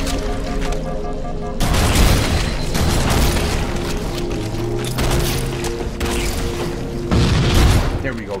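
Rocket launcher blasts in Halo: Combat Evolved come as repeated heavy booms and crashing explosions over continuous game noise and mechanical clatter, loud and dense, with voices talking through it.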